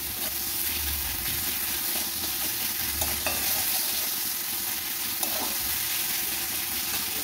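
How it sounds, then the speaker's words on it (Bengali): Spice masala for chili soyabean fries in hot oil, a steady close sizzle with scraping stirs of the spoon against the pan, a couple of sharper clinks standing out, and no talking. "মশলাটা একটু কষিয়ে এসে এবার আমি দিয়ে দেবো"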